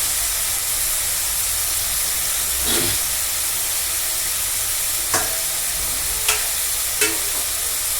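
Beto shak greens cooking in oil in a pan: a steady, close hiss of sizzling fills the whole stretch, broken by a few sharp clinks of a utensil toward the end.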